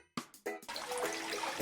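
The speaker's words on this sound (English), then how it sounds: "He also was a bit mischievous and planted fountains throughout the grounds, firing off randomly and scaring his guests" Water fountains bursting on and spraying under water pressure in palace grounds, with a few short sharp hissing spurts followed by a sustained rushing spray that runs steadily to the end.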